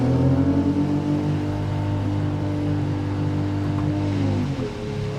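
BMW X3 M50 crossover engine pulling under acceleration on an alpine pass, a steady mid-pitched drone with the automatic gearbox shifting near the end, close and fairly loud, no voices.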